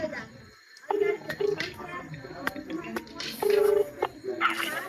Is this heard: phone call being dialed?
yes